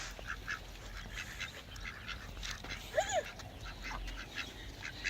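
Ducks being fed bread outdoors, with one short rising-and-falling call near the middle over steady background murmur and scattered noise.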